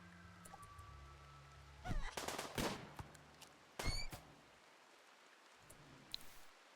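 Gunfire in a video game, fired at enemies, breaks out in a few short, loud volleys over a steady background hiss, with a pause between bursts and one faint last shot near the end.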